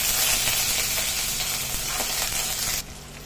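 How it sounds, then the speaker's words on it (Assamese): Potatoes frying in hot oil with panch phoron and a dried red chili give a close, steady, crackling sizzle that carries on evenly before dropping off sharply near the end. "এয়া মই আলুখিনি ভাজি ল'লোঁ লৈ"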